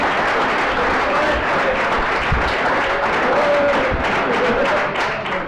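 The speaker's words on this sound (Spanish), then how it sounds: "esta se merece un gran fuerte aplauso por haber llegado hasta aquí" An audience at a homebrew beer competition awards gala bursts into loud, sustained applause, with many people clapping continuously throughout.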